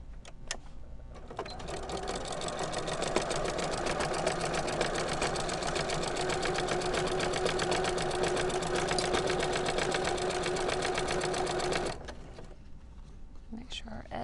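A sewing machine stitches a dog-bone Christmas stocking in a fast, continuous needle rattle for about ten seconds, then stops, leaving a faint room tone with small handling sounds.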